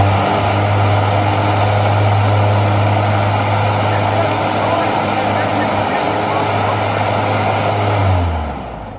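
A Gravely EV ZT battery-powered zero-turn mower runs with its blades engaged, giving a loud, steady whirring drone close by that holds level and then winds down quickly at the end.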